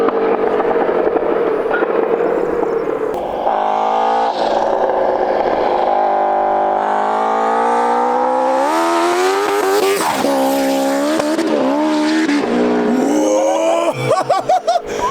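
A Honda CBR turbo motorcycle accelerates hard nearby. Its loud engine whine climbs steadily in pitch through the gears, with quick drops near the end as it shifts and the revs fluctuate.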